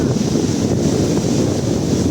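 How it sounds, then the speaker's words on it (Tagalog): Strong wind roars over the microphone while large waves about 5 ft high surge and crash continuously at high tide, a loud, dense wash of noise with no let-up. "Taib kasi, kaya malalaki alon."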